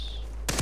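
Burst of gunfire in the shooter game Far Cry 3, a few sharp loud shots in quick succession coming in abruptly after a quiet stretch with a faint high tone.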